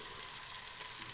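Chopped medium tomatoes land in a hot frying pan and set off a steady, close hiss of sizzling oil that holds level throughout the short moment.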